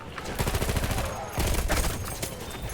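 Rapid bursts of gunfire from the World War I shooter Battlefield 1, dense overlapping shots and fusillade close up and loud, with a short pause midway before another volley.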